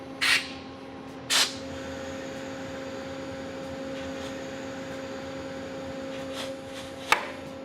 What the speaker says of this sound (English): we're going to do that with a lovely air pressure here to simulate what would be brake fluid or hydraulic pressure